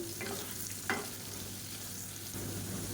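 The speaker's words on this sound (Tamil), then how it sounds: "இப்போ இது வந்து கொஞ்சம் நல்லா ரோஸ்ட் ஆகட்டும் உருளைக்கிழங்கு" Potatoes fry and roast until crisp in a hot pan, a soft, steady sizzle broken by a few stirring scrapes, heard up close with no voices.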